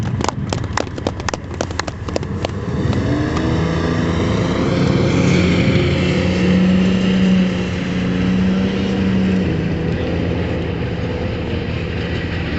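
M113.5 Lynx command and reconnaissance vehicle, a tracked armored carrier, rumbling past with a rapid clatter at first, then a steady loud engine drone with a sustained low hum, close by.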